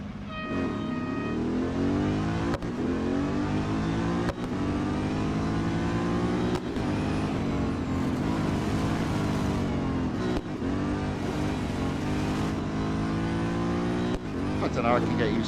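A race car engine revs and shifts repeatedly as it laps Lime Rock Park in Real Racing 3, its pitch climbing through each gear with brief breaks between, while someone talks over the engine throughout.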